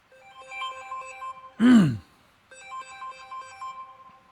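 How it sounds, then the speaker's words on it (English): A phone rings in a garage workshop with a repeated electronic ringtone pattern, near and clear. A brief throaty vocal sound interrupts partway through before the ringing resumes. "Let me answer this phone."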